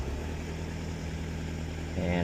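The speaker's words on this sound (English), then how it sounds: "I am going to use the idle up feature to get the engine up to operating temperature quickly" A Toyota Hilux Surf diesel engine runs at high idle, a steady low drone with a constant hum that holds even and grows slightly louder near the end.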